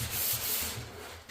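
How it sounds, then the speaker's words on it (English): Short strokes of a sanding block rubbing over a car body panel on a 1969 Chevy Nova, a close rhythmic scratchy swish repeating back and forth. "I don't really necessarily like holding my block like this and sanding this way."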